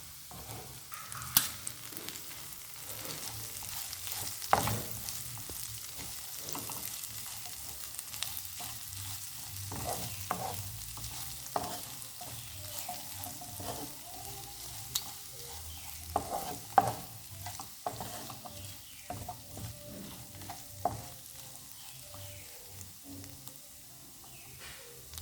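Chicken gizzards with garam masala being stirred and fried in a pan, a continuous low sizzle punctuated by repeated spatula scrapes and knocks at an uneven rhythm, no talking.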